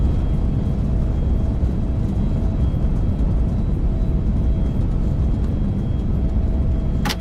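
Broadband roar of an Airbus A321neo's thrust reversers during landing rollout in a flight simulator game, a steady loud rumble held throughout with a brief clatter near the end.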